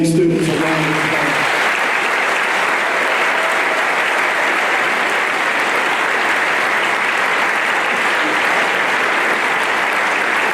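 An audience at a high school graduation ceremony breaks into sustained, loud applause that holds evenly for about ten seconds, with a brief voice at the very start.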